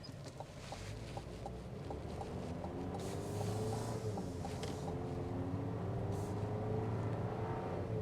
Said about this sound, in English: I gotta constantly hear the engine just whining to get up to speed.